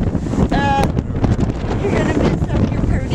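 Strong tropical storm wind buffeting a microphone on Anna Maria Island, Florida, a loud continuous roar with gusts, with a voice briefly in it.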